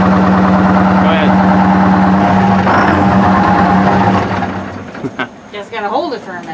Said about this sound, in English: The old two-stroke runs.